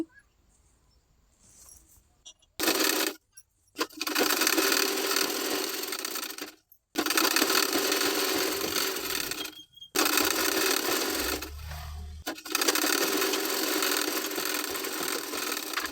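A sewing machine stitching a blouse lining, running in several loud continuous whirring bursts of a few seconds each, separated by short pauses with faint handling noise.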